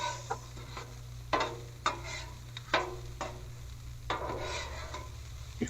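Carrots and green onion being tossed on a hot Blackstone griddle for steak and shrimp fried rice: a steady sizzle under a low hum, broken by several sharp metal spatula scrapes and flips.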